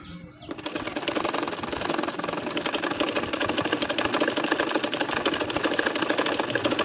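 An electric sewing machine starts up and runs steadily, stitching a baby nakshi kantha with a continuous close whirring buzz that holds loud and even throughout.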